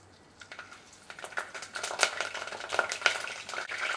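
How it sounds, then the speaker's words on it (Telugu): Cinnamon stick and cloves fry in hot oil for a potato egg kurma, a steady crackling sizzle that builds louder over a few seconds with sharp spitting pops, close up and with no talking. "కొంచెం వేగిన తర్వాత కరివేపాకు కూడా వేసుకోవాలి."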